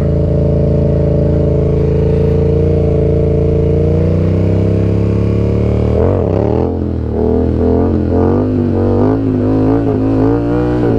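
A Yamaha MT-07 motorcycle engine, ridden for stunt practice, holds a loud steady rev and then bounces off the rev limiter in a rapid chopping stutter of repeated cut-outs.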